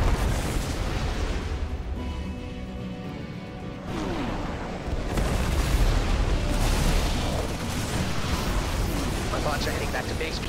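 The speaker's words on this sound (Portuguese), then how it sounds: "Deixa eu soltar uns tiros aqui." Rapid gunfire and repeated booming explosions from a StarCraft 2 co-op battle with Terran commander Mengsk on the Mist Opportunities map, forming a dense, continuous clamor of blasts with voices mixed in throughout.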